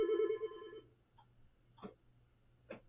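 A telephone rings once in a live radio studio, a short harmonic tone, followed by a few faint clicks and quiet room hum.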